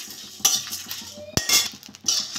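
A metal spatula scrapes and clinks against a pan as dried red chillies, fennel seeds and whole spices are fried, with a few sharp, close knocks and rattles in irregular bursts and no talking.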